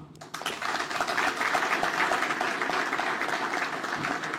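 After a speech at a Congolese political gathering, an audience bursts into sustained applause, a dense steady clapping that holds for several seconds.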